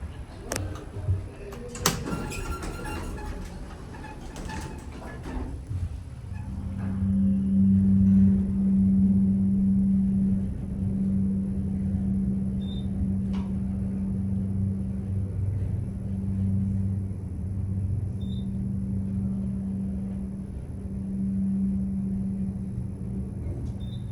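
A fanless Westinghouse hydraulic elevator pump motor at an office park hums steadily and loudly once it starts, a droning tone holding for nearly twenty seconds after a few earlier clicks and knocks.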